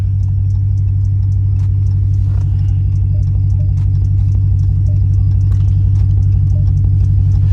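A supercharged Chrysler 300C drives at night, its engine a loud, constant low rumble heard from inside the car, with faint regular ticking above the drone.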